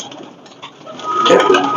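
Pakistani breeder pigeons in a crowded loft coo in soft, overlapping calls, swelling louder toward the end.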